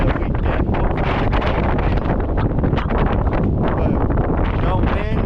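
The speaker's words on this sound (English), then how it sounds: "trying to get out of the wind because there's so much wind" Strong gusts batter the microphone in a hot, exposed spot, a loud continuous roar and rumble that fills the whole clip and buries any other sound.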